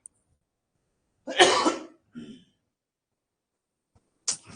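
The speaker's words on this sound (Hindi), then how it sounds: "खांसी से परेशान हो गया यार।" A single harsh cough bursts out, followed by a shorter, softer cough, then another brief cough right at the end, all close by.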